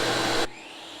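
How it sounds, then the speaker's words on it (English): A table saw rips through plywood in a loud, steady whine, then cuts off suddenly into a quieter hum as the blade spins down, with no talk. "And now I can cut my plywood to the exact thickness."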